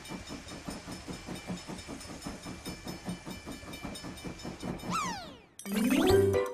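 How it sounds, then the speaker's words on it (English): A small amusement park train rolls along with a steady rhythmic chugging and clacking, then a rising whistle-like squeal and a louder burst of mechanical noise near the end. "There is a little train."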